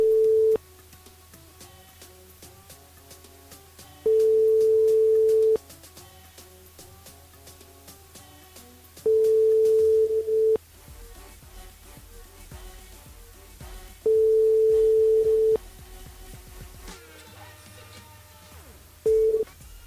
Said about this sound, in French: on va rappeler Larissa sur le jeu